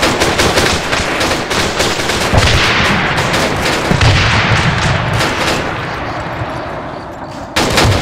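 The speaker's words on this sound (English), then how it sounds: "we're taking friendly fire as well" Heavy gunfire in a co-op military game, with dense bursts of automatic fire and booming shots rolling almost continuously at close range and little pause.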